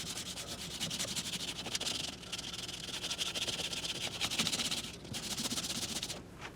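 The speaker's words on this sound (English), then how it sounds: "let's take the microfiber cloth and hit it." A microfiber cloth rubs along the strings of a Yamaha MG-MIIG guitar in repeated swipes, a close, soft scrubbing hiss that pauses briefly between strokes, with no talking.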